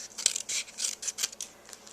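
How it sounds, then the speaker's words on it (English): Scissors trimming excess paper from around oval shapes on a Christmas card, a rapid run of close, crisp snips in an even rhythm. "trim off the excess from my ovals"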